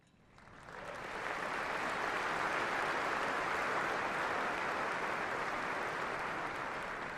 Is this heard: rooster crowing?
no